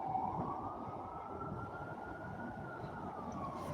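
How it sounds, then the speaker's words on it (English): A distant siren wails faintly, its tone slowly rising over a low, rumbling background of traffic noise. "You hear them sirens?"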